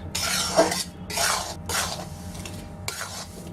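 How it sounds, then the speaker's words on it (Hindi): Melted jaggery is stirred into wheat flour in a pan for gud papdi, heard as four rhythmic, close scraping strokes with short pauses between them and no voices. "इसे जब तक मिक्स करें कि जब तक ये गुड़ अच्छी तरह से पिघल कर मिक्स ना हो जाए आटे के अंदर"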